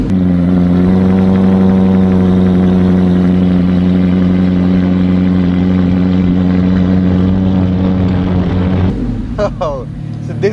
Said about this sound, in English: time to start and listen to the roar of this beautiful engine